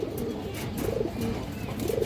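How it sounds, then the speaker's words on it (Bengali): A pair of Rampuri pigeons coo close by, with two soft, throaty rolling coos standing out over a low, steady background hum. "এই দর্শক রামপুরি জোড়া ডাকাডাকি করতেছে।"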